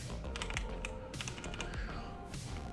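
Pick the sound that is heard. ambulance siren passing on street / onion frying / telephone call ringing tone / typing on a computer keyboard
typing on a computer keyboard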